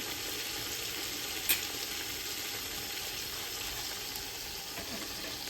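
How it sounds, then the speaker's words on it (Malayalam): Marinated chicken fries in a pan on the stove with a low, steady sizzle and a single light tap early on. "ഫസ്റ്റ് അത് എടുത്ത് അടുപ്പത്ത് വെച്ചിട്ടുണ്ട് ഇപ്പൊ ഒന്ന് ഫ്രൈ ചെയ്യാൻ ഇട്ടുണ്ട്"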